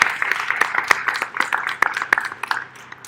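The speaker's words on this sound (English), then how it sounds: "A little round of applause here for the panelists" Audience at a panel discussion applauding the panelists, a steady patter of many hands clapping at moderate volume with scattered sharper claps, lasting about three seconds.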